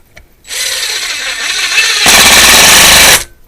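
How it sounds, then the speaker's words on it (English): Power drill driving a self-drilling hollow-wall anchor into sheetrock, revving up close and loud with a whirring grind for about three seconds, rising in pitch and intensity partway through before stopping abruptly. "You get them drilling like that, and then they set in there, and they don't go anywhere either. You get through the sheetrock"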